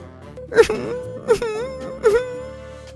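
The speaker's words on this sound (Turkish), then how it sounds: "ufaklık neden ağlıyorsun?" A small child wails in an Among Us animation, three rising, drawn-out sobbing cries spaced about a second apart, close and fairly loud with no other voices.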